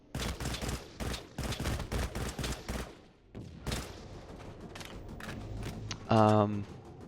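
Republic Boundless Specialist Combat Rifle gunfire in the video game Dust 514 rattles out in rapid, loud bursts for about three seconds, then drops to scattered shots and softer game sounds.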